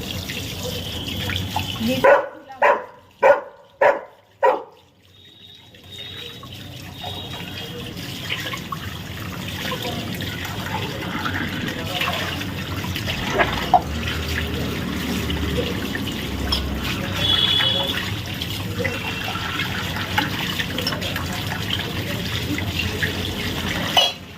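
Running tap water washes copper and brass utensils in a sink, a steady splashing stream lasting most of the clip after a few sharp knocks or clinks at the start.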